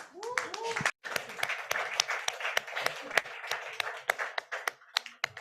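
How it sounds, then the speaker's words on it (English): An audience claps for Ana at a founders' mental-health hangout, a steady patter of many hands with a brief gap near the start and scattered sharper claps toward the end; a voice speaks briefly over the opening. "An applause to Ana."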